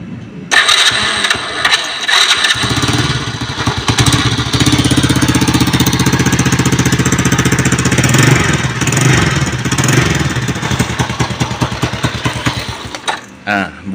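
A Demak EX90 motorcycle with a broken, rusted standard exhaust starts up after a brief crank, then runs loud and steady with a rough, rattling idle for about eleven seconds before cutting off.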